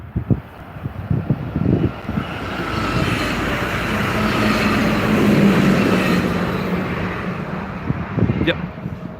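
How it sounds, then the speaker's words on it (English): A Deutsche Bahn train passes outdoors, a broad rushing rumble that swells to a peak and fades, with wind buffeting the microphone and people talking around it. "Oh, there's a train coming."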